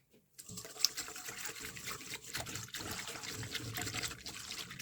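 Warm water and milk pour into a mixing bowl for yeasted bun dough, a steady close trickle and splash running for several seconds after a brief silent start.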